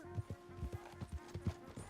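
Horse hooves clip-clop at a steady trot in the Red Dead Redemption 2 video game, about a dozen soft, regular thuds with a faint background tone, moderately quiet and without speech.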